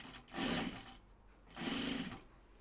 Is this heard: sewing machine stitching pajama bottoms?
yes